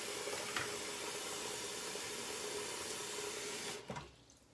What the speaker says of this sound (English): give a quick rinse.